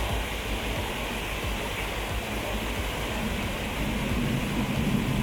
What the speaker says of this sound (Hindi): पानी की लहरें आपको सुनाई देंगी